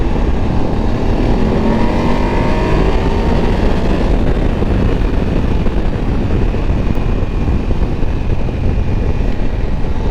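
Steady loud roar of a BMW 850 GS adventure motorcycle engine pulling through its mid-range on a road test ride, with continuous wind rush and engine drone that rises and falls slightly.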